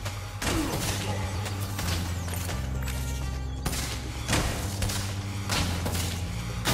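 Spyro 3: Year of the Dragon gameplay with rockets fired at a treasure chest, repeated loud thumps and blasts over steady game music.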